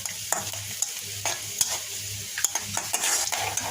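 Dried chillies fry in hot oil, giving a close, steady sizzle broken by sharp spatula taps and stirring scrapes every half second or so, with nobody talking.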